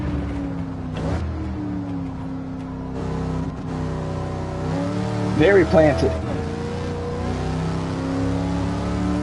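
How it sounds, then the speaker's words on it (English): A Pontiac Firebird Trans Am V8 in Gran Turismo 7 drones steadily around the Nordschleife, then revs sharply with brief tire squeal midway before settling back into a loud, even engine tone while someone talks over it. "that V8 just sounds amazing"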